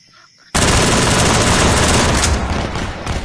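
Sustained automatic gunfire in the VR shooter Tactical Assault VR, a loud continuous burst of rapid shots that starts abruptly and keeps up for about three seconds.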